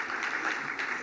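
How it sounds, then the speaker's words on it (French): Audience applause at the official opening ceremony of the 2nd Lake Chad Governors Forum, a steady wash of clapping at moderate distance throughout the short moment, with no voices on top. "Mesdames, encore, sous vos applaudissements,"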